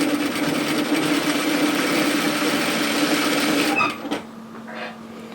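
A sewing machine runs steadily, stitching the collar and shoulder seams of a waterfall collar cardigan at a 1 cm seam allowance, a continuous close mechanical whir that stops abruptly near the end.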